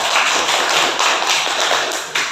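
Applause in a classroom: a short burst of many hands clapping together, dense and loud, lasting a couple of seconds.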